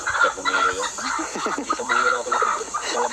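A chicken, being held, clucks repeatedly in a steady, close-up series of short calls over a dense farmyard background.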